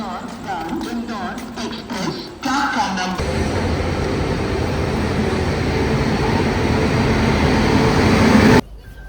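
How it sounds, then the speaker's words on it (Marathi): A train pulling into a station platform, with voices and shuffling over the first couple of seconds before a loud, steady rumble of rolling coaches takes over and cuts off abruptly near the end. "तर आता गाडी प्लॅटफॉर्मवर लागत आहे"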